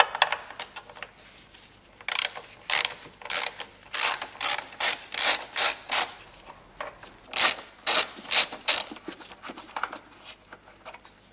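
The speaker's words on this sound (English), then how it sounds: "Need to get these nuts removed." A size 10 ratchet loosens the nuts on a Ford Explorer battery retaining bracket, making close, rasping clicks in short rhythmic bursts with brief pauses between strokes.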